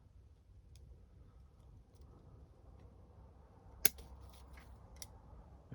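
A single crisp snip cuts a branch while pruning a skeleton acacia tree. It stands out from quiet outdoor background, followed by a couple of faint light clicks.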